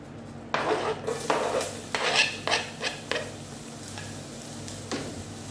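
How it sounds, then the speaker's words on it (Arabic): Onions cook in olive oil in a pan for a spinach dish, with rhythmic scraping strokes of a utensil and soft sizzling underneath, close and fairly loud, without speech. "هنا أول شغلة طبعا أحطها زيت الزيتون، وأنزل عليها البصل."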